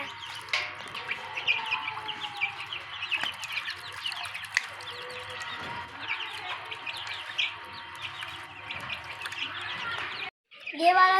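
Hungry baby chicks and ducklings peck at grain, filling the air with a continuous chorus of high peeping and cheeping, steady and fairly close, before it cuts off briefly near the end.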